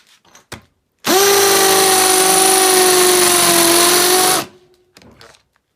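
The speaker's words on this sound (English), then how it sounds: "We'll start off with the regular hammer drill." A regular hammer drill bores into wood with a spade bit in one continuous run of about three seconds, a loud, close, steady whine that cuts off abruptly, with a few faint handling knocks before and after.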